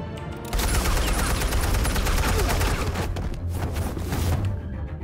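Dense, continuous gunfire from Batman: The Telltale Series, a rapid loud fusillade of shots with booming low thumps that keeps going for several seconds after a brief quieter start.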